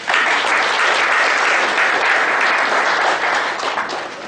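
An audience at a half-day seminar on GST judgements claps steadily for a speaker, a dense and loud round of applause that keeps going for several seconds before it starts to fade at the end.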